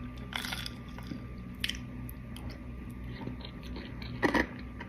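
Ice crunched while eating a Crumbl cookie: a few crisp bites heard close up against a soft steady background hiss, no talking.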